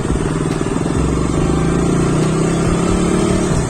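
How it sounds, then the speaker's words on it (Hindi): KTM motorcycle running at speed in third gear, a loud steady engine drone with wind rush throughout, with no break in the sound. "अभी तो मैं 3rd गियर पे भाग रहा हूँ बाइक अभी स्पीड में"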